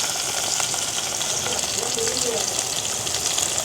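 Onion and green chilies frying in hot oil for an evening village-style meal, heard as a loud, continuous close-up sizzle that holds steady, with a voice faintly present beneath it.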